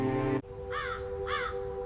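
A crow gives two distinct harsh caws, clear and fairly close, after a brief burst of tonal music cuts out, over a steady hum.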